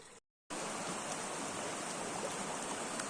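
Water runs through a micro hydro intake pipe and filter in a steady, close hiss and rush that follows a short silent gap at the start.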